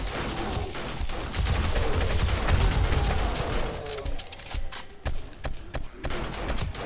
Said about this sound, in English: I think I can do it with a shotgun.